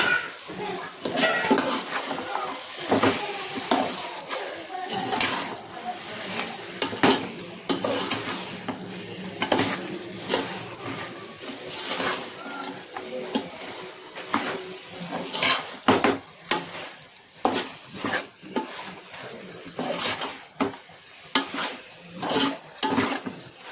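Chicken being stirred with masala in a pot for home-made biryani, a steady run of scraping spoon-on-metal clinks and clatter close by, with no talking.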